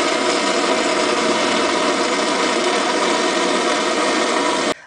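An acetylene/air torch flame burns with a steady, loud broadband roar after ignition, holding constant for about five seconds before cutting off abruptly.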